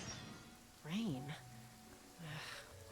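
Rain in a video game patters steadily as a soft constant hiss, while a person talks briefly over it in two short bursts.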